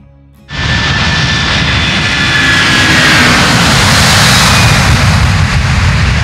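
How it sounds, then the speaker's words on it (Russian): The engines of a Soviet Ilyushin Il-18 airliner burst in abruptly and then hold a loud, steady, close roar with a faint whining tone running through it. "Как и этот лайнер, Ил-18 СССР"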